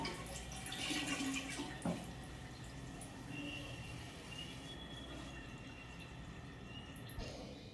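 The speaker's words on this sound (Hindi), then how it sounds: "चलिए भरते हैं पानी" Tap water running through a pipe into a blue plastic drum in a bathroom: a steady, faint splashing and gurgling stream that keeps going for the whole stretch, with a few louder knocks and drips.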